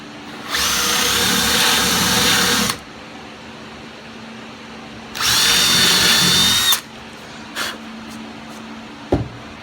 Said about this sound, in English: I'm going to take this 1/2 inch paddle bit and kind of countersink some holes in it